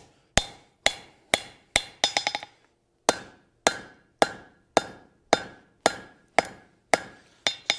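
Hammer forging copper over the horn of an anvil: sharp ringing metallic blows in a steady rhythm, about a dozen strikes, including a quick rattling burst of lighter taps, each hit decaying with a bright ring, close and loud.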